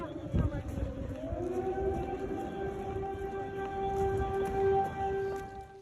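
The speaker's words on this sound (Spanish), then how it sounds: "cuando sonaron las sirenas antiaéreas" Air raid sirens wailing at Lviv train station, a rising civil-defense tone that climbs and then holds a long steady howl, heard at a distance over crowd noise and a brief thump at the start.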